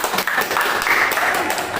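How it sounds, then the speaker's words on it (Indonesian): A live audience claps together at a Batak comedy team's stage show, a short dense burst of applause close to the microphone. "Tepuk tangan."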